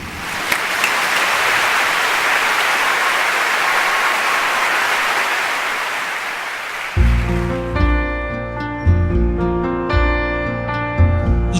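A concert audience gives a warm round of applause that fills about seven seconds, then stops as piano music begins.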